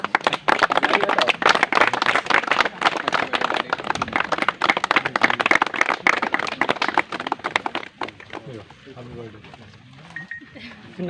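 A group of people clapping at an outdoor birthday celebration, with dense, close applause that runs for about eight seconds and then dies away into voices talking.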